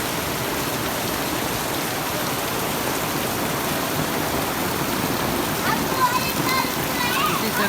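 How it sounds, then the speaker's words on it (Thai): Heavy rain from a rainstorm in Vietnam pours steadily, strong enough to cause flooding. It makes a loud, continuous hiss and patter throughout, with faint voices audible near the end. "This is a rainstorm from Vietnam."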